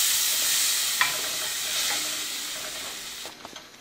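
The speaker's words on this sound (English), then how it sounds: "going to add my yogurt paste. And stir fry it." Yogurt paste sizzles steadily in a hot pan for potato curry, a close continuous frying hiss with a few soft scrapes of stirring near the end.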